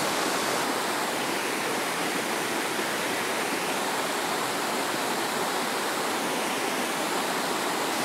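Clean water pours from a karstic spring in the Bosnia and Herzegovina area, a steady, loud, unbroken broadband rush like a small waterfall, heard close with no voices over it.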